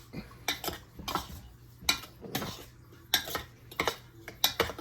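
Cornbread batter with baking powder and salt being mixed in a bowl: a spoon clinks and scrapes against the bowl in quick uneven bursts, close and moderately loud, with no talk.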